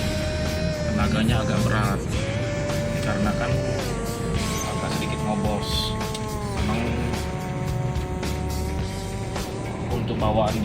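A 2003 Toyota Kijang diesel car on a night test drive with an engine that had felt heavy and slightly smoky, giving a steady, continuous engine and road rumble with whining tones that rise and fall.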